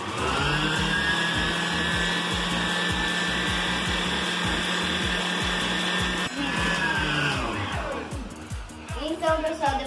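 Electric mixer beating batter for a Brazilian formigueiro cake, a loud, steady whirring drone held for about six seconds before the motor winds down into clattering, uneven rattles near the end, with nobody talking.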